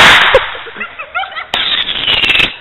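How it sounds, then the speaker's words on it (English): Roman candle fireworks fire during a New Year's Eve fight, sharp pops and crackling bursts over a loud hissing spray, with shouting and laughter close by. "Don't aim it towards the fireworks!"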